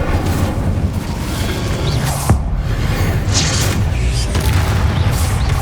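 An Incendio fire spell goes off in the Hogwarts Legacy video game as a dense, loud roaring whoosh with a sharp crack partway through, set over a continuous heavy rumble of combat.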